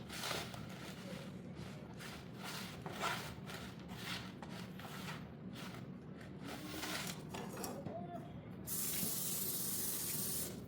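Water sprayed in repeated short bursts onto light seed-starting soil mix, soft hissing pulses close by, ending in a longer, brighter spray at the end; no talking.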